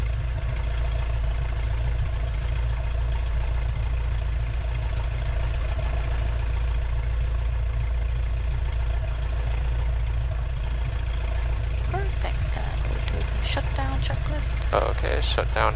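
A Citabria 7ECA light aircraft engine idles at about 1,000 rpm, a steady loud low drone throughout with some faint clicks near the end.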